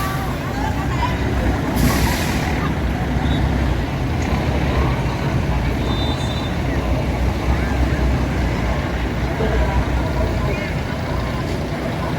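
Tour bus travelling in a large convoy of buses, a steady loud engine and road rumble throughout, with a brief hissing release of air brakes early on and nobody speaking.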